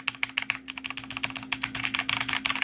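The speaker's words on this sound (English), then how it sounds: "that's actually what makes the most noise, is when you're pounding the keys in" Arrow keys on a G.Skill gaming keyboard are pounded in a rapid, uneven run of sharp clacks, keys bottoming out close to the microphone over a faint steady hum.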